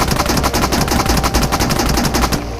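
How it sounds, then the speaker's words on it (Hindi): The Honey Badger gun in the battle royale game BGMI fires a rapid, loud, evenly paced automatic burst of roughly two dozen close shots, ending abruptly with no talk over it. "तो चलो नेक्स्ट आगे बढ़ते हैं हमारे नेक्स्ट गन हनी बैजर के ऊपर, देखते हैं उसका बिफोर रिकॉइल"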